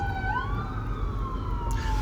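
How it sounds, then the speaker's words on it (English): A wailing emergency vehicle siren rises and sweeps steadily in pitch, loud and fairly close, with constant traffic rumble underneath, in New York. "here go the sirens"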